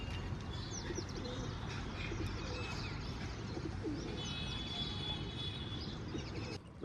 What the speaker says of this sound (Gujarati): તો હવે થઈ ગયા બધા કબૂતર પાછા